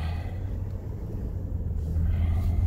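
A car drives along a snowy winter road near Jamestown, North Dakota, its engine a steady low rumble heard from inside the cabin, swelling slightly as it picks up speed.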